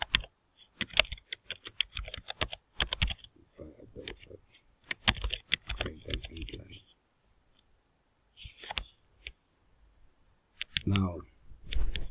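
Computer keyboard typing as C++ code is entered, bursts of quick close clicks separated by pauses, with a voice speaking at intervals.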